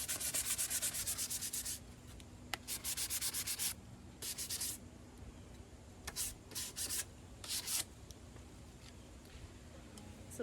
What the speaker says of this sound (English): So you might want to sand off the rough edges so it doesn't poke you.